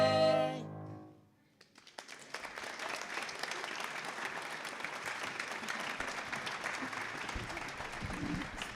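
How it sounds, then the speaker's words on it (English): Audience applause at a live evening performance breaks out right after a song ends, a sustained wash of many clapping hands that swells and holds steadily at moderate loudness. "give a big round of applause for Desiree Gales"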